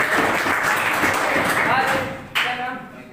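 A class in an agriculture lesson claps for a student, producing a dense patter of hands mixed with voices that thins out toward the end, followed by a single thump.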